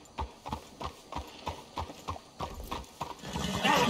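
Horse hooves clip-clop in an even walking rhythm in Red Dead Redemption 2, about a dozen crisp, close steps before a louder rustling swell takes over at the end.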